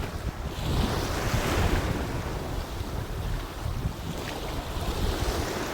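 Ocean waves wash steadily onto the beach at Van Tyen Island, a continuous broadband surf roar with heavy wind buffeting the microphone throughout, close and loud with no voices.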